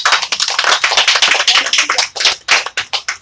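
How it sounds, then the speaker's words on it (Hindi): Loud, sustained applause from a live audience, dense overlapping hand claps with a steady fluttering texture that thins into a few separate claps near the end. "एक बार जोरदार ताली लगाइए"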